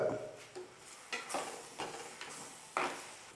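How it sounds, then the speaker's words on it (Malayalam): A spoon stirs masala powder into crab roast in a pan, giving about five distinct scraping strokes at an uneven rhythm with a light sizzle underneath. No one speaks. "മസാലപ്പൊടി ഒരു ടീസ്പൂൺ ഇട്ട് കൊടുക്കാം എന്നിട്ട് നല്ലോണം ഇളക്കാം നമുക്ക്"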